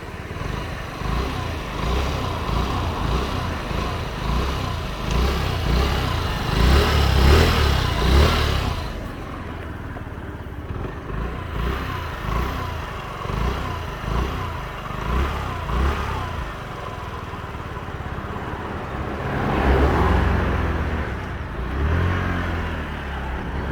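A Honda Dio 68 scooter engine drones steadily while riding, with revs swelling louder around a third of the way in and again near the end.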